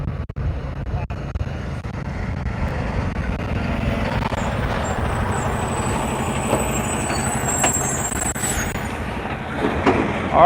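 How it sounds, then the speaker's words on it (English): A nitrogen tanker truck rumbles past at the SpaceX Starbase build site in Boca Chica, Texas, a loud, steady low drone lasting throughout with some wind buffeting and faint voices. "we got a nitrogen truck passing by in front of us"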